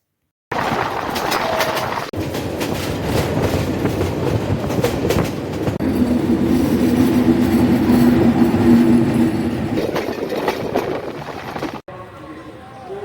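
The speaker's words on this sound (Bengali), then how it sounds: "ভাওয়াল বনের ভিতর দিয়ে ট্রেনের ঝকঝকিয়ে ছুটে চলা" The Jamalpur Express on the Dhaka to Jamalpur line runs through Bhawal forest with a loud, continuous rumbling roar and rhythmic wheel clatter, steady for about ten seconds before cutting off abruptly, with a voice faintly audible beneath.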